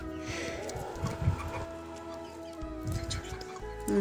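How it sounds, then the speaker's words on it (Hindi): Desi chickens cluck in short, scattered bursts close by on a cold, overcast hillside in a village, with faint talking and background noise between the calls. "तो ये रहे अंग्रेजी देसी मुर्गे।"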